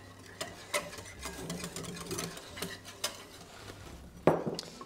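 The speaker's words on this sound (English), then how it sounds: "And then just whisk it in." Cold milk whisked into lemon madeleine batter in a bowl, heard as faint, close, rhythmic clicks and taps of the whisk against the bowl over soft background noise, with one sharper clink near the end.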